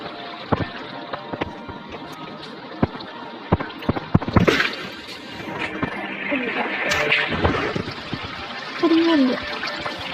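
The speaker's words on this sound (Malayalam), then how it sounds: "അവിടെ നിന്ന് വെള്ളം ലീക്ക് ചെയ്തിട്ട് ഇങ്ങോട്ടേക്കൊക്കെ വീഴുവാണ്" Water leaks and falls in Minecraft gameplay, a light trickling and splashing under intermittent clicks and bumps, with a brief voice near the end.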